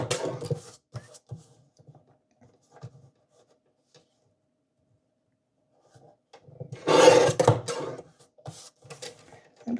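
Christmas card labels being trimmed with scissors or a blade: short scattered cutting and rubbing sounds near the start, a quiet stretch, then a longer louder burst of paper handling and scraping.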